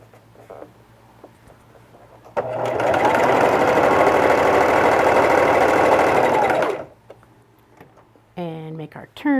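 A sewing machine stitches a fabric face mask in one steady, loud run of rapid whirring for about four seconds, close by, with quiet handling before and after and a brief voice near the end.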